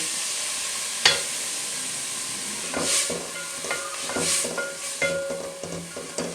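Corn kernels tipped into a hot pot of hot and sour chicken soup with cabbage, followed by steady stirring with a utensil scraping the pan and a soft sizzle, with a sharp tap near the start.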